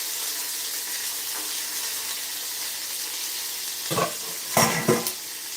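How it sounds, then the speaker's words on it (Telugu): Soaked chickpeas are roasted in hot oil, starting as a steady, moderate sizzle, then a few sharp scraping stirs and bursts of spattering near the end. "ఈ నానబెట్టిన శనగలు మనం కాస్త ఆయిల్ వేసి దాన్ని అయితే మనం రోస్ట్ చేసుకోవాలి"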